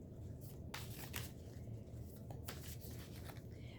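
Light Seers Tarot cards are shuffled by hand, quiet papery riffles and soft flicks in short bursts, close and faint against a low background hum.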